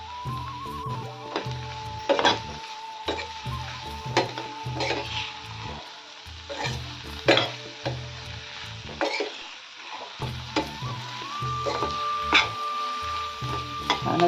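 Aloo palak sabzi of potato and spinach being stirred in a pan after salt is added, with repeated scraping strokes of a spoon against the metal over a steady low sizzle.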